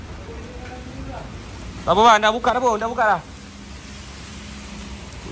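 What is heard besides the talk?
rain falling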